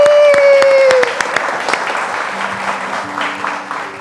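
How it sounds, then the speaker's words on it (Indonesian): An audience at a talk-show taping breaks into applause, a dense wash of clapping that follows a brief voice and continues steadily under a faint tone. "tepuk tangan dong"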